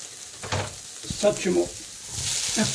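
Chopped onion frying in a pan for veal goulash, a soft steady sizzle with a few scraping stirs, close and moderately loud, no talk.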